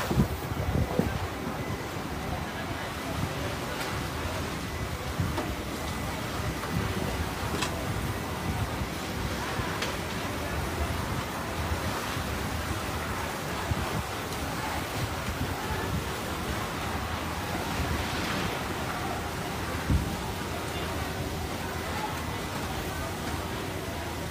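Wind gusts and buffets the microphone steadily at an urban fire scene in Manila, a constant rushing roar while people shout and talk throughout.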